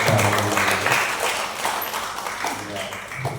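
Audience clapping at a presentation session for Catholic religious counselors in West Kalimantan, a steady broadband patter that carries on under a voice speaking through most of it.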